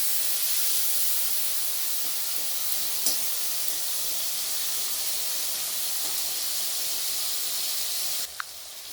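Tomatoes with a little salt simmer in a pan, giving a soft, steady hiss and faint sizzle throughout, with a couple of small clinks near the end.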